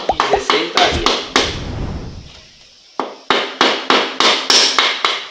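A small hammer taps on a delicate plastic part of a Chevrolet Corsa during car maintenance, about a dozen sharp, close strikes in two quick bursts separated by a short quiet gap, with no talk.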